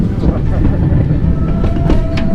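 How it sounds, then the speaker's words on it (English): The Kukushka train winds through the mountains, heard from on board as a continuous low rumble and rattle with a voice talking over it. "That's the Kukushka train. It snakes around the mountains as we are doing now."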